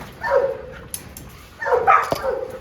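An American Pit Bull Terrier or American Sentinel dog in a yard gives two close whining, whimpering barks with a short pause between them.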